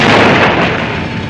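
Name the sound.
explosion sound effect in a 70s/80s sci-fi film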